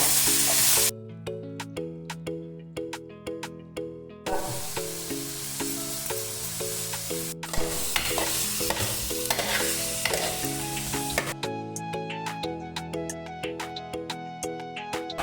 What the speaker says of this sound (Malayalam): ഇതിൻ്റെ അകത്തേക്ക് മുറിച്ച് വെച്ച ബിലിമ്പി ഇടാം. നല്ലോണം ഇളക്കുക.